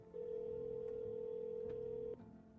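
A steady phone tone in the video game No I'm Not A Human holds for about two seconds after a soft start, then cuts off, leaving faint background hum; no one talks.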